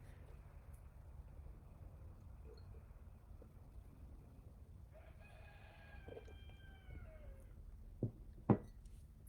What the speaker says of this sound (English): I don't know if you can hear my roosters in the background.